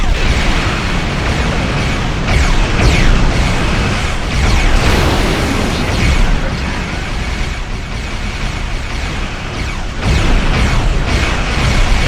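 Rumbling explosions pound a battleship in Star Trek Online, a dense, loud barrage of booms and crackling bursts that swells and eases several times across the span.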